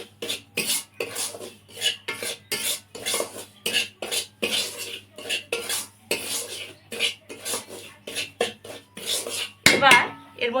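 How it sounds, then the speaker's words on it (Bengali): Semolina roasts in ghee in a pan for a simple sweet, rhythmic scraping and stirring strokes of a utensil against the metal, each a short gritty burst, close and moderately loud, with a faint sizzle beneath and a clatter near the end. "সুজির কাঁচা গন্ধটা যাতে চলে যায়, তাই জন্যই সুজিটা এভাবে একটু ভেজে নিচ্ছি"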